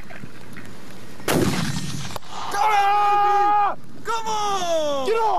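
A mortar is fired once with a sharp, loud blast, followed by shouting and whooping voices close by, recorded at an outdoor skit.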